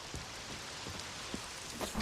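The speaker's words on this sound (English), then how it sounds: "It's raining buckets." Rain falling in the video game Witcher 3, a steady dense hiss of downpour with faint scattered patters, continuous and fairly soft throughout.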